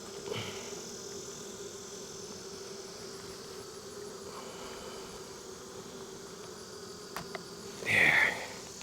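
Honey bees buzzing around an open hive during a hive check, a faint steady drone with a few sharper close passes and a brief louder burst near the end.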